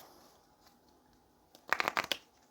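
Tarot cards being shuffled by hand in a quiet room, a brief flurry of crisp, rapid riffling snaps lasting under a second after near silence, close to the microphone.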